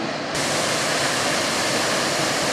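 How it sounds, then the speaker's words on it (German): The Krimml Waterfalls plunge down a steep drop in the Salzburg mountains, a dense, roaring rush of water that swells in at the start and then holds as a loud, unbroken hiss. "Aber jetzt ist es der echte Krimmler Wasserfall, der sich hier in die Tiefe stürzt."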